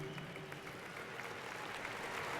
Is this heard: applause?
yes